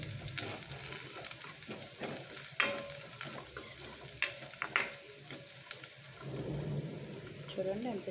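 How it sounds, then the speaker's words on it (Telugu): Small pieces of coconut fried in a pan for a sweet, giving a soft sizzle broken by scraping stirs and clinks, fairly quiet and close, with some faint background voice toward the end. "ఒక ముదారి కొబ్బరికాయ తీసుకొని చక్కగా చిన్న ముక్కలు కోసుకొని వేయించుకోవాలి"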